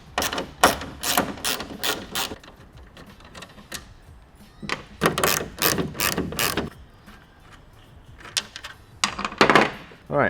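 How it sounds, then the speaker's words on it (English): A ratchet socket wrench with a 10mm socket turning tail light bolts, bursts of fast, close ratcheting clicks repeated in several runs with short pauses between them. "This is going to be a 10mm socket and socket wrench."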